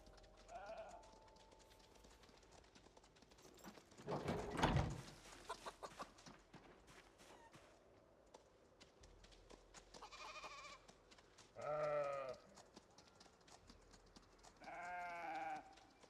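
Goats and sheep bleat in a few short bursts in a video game farm, a louder call near the middle and fainter ones later, over quiet game ambience.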